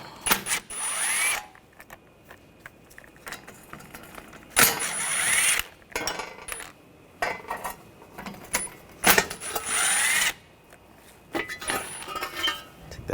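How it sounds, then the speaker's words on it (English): Power tool removing 10mm shield bolts from a Buick Encore wheel hub, with several short loud bursts of buzzing rattle separated by pauses and light metallic clinks, close and with no talk. "Take these bolts out."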